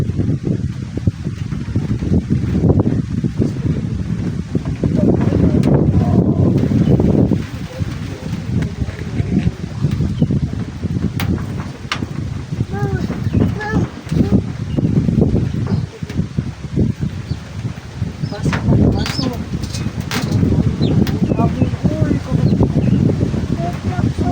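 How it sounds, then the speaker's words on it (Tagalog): Strong wind gusts buffet the microphone outdoors near a boat on an outing with a wife and child, a roaring rumble that swells and drops, with people talking over it at intervals. "Hangin ay."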